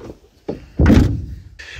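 The rear door of a cheap electric van is pulled shut with one solid thunk, preceded by a couple of softer clicks and handling sounds, close up with no talking.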